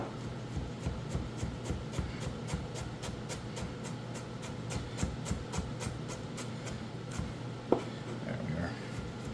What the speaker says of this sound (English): all we're going to do here is just cut this up in the same manner that we cut them up for the stew